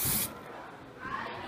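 A short burst of aerosol spray hisses at the start, then a quieter second spritz follows a moment later.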